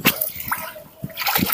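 Water sloshes and splashes in short irregular bursts as a tub is shaken clean during catfish sorting.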